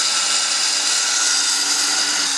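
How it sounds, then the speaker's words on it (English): A loud, continuous high-pitched whine of a pneumatic tool carving marble runs without a break, close and harsh. "I use many power tools, pneumatic tools, diamond blades, sandpapers of all different grits and styles"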